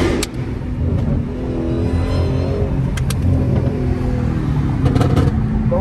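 A 900 hp Dodge Hellcat revs loudly inside a tunnel, a close, sustained engine roar with sharp bursts, echoing off the walls.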